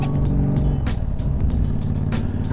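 A Honda VTX bagger motorcycle rumbles close by with a steady, deep engine drone as it heads out for a short ride, with no talking.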